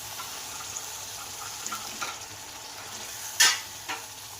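Chicken frying in a karahi as yogurt is stirred in for a white chicken karahi, with a steady soft sizzle, gentle stirring scrapes and a sharper clink of the spoon near the end.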